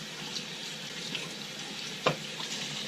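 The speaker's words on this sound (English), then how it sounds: "So I'm just going to use warm water and just, rinse it off" Warm tap water runs steadily over a K&N high-flow motorcycle air filter during a rinse, a continuous broadband splashing hiss with one brief louder splash near the end, no voices.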